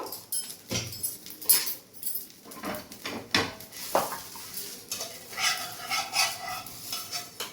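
Flatbread made from bottle gourd peel cooking in a pan, with soft sizzling under scraping and stirring from a utensil and occasional clinks against the pan, close-up with no voices.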